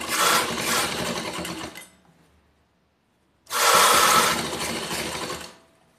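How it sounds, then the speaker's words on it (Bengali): A sewing machine stitches nightie fabric in two close, steady runs of rapid whirring, separated by a short pause of near silence. "দেখে এখান থেকে সেলাই দেব।"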